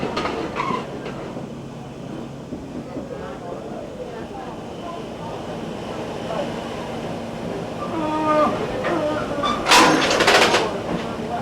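A passenger train near Strasburg, Pennsylvania rolls along on its return trip, a continuous rumble of rail cars with faint clicking and a brief metallic burst near the end, while a voice narrates over it.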